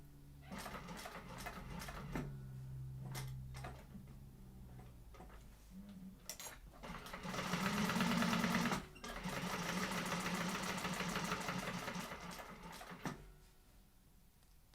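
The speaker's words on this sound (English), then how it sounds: "So I'm going to go ahead and top stitch." A sewing machine runs in steady bursts while top stitching, its needle ticking rhythmically and close, with a louder sustained run in the middle and pauses between sections.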